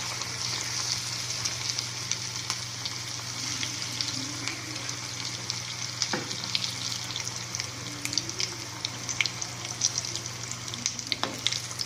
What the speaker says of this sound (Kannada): ಈಗ ಈ ಥರ ನಾವು ವಡ ಕರ್ಕೋಬೇಕು